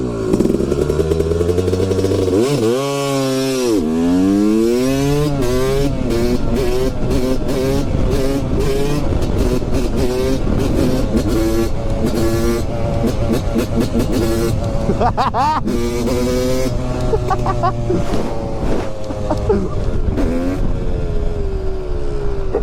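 A Yamaha 250 YZ motorcycle engine revs hard and close, its pitch sweeping up and down in repeated blips and sustained throttle runs with a raspy two-stroke edge, alongside occasional voices.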